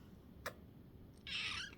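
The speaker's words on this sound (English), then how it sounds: "Here's a cat you've been hearing." A single short cat meow, fairly close and clear, after a brief click, in an otherwise quiet room.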